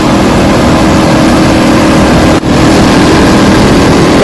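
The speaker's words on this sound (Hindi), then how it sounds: "हमने आपको ये चलाकर दिखाना है कि ये कितने एम्पेयर के, कि ये कितने आरपीएम दे रही है" A homemade free energy generator motor spins at very high rpm with a loud, steady, dense roar that holds constant throughout, broken only by a momentary dip near the middle.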